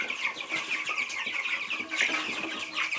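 Young meat-breed chickens, about twenty days old, cluck and chirp loudly and continuously at close range, a busy overlapping chatter of many birds with no talk.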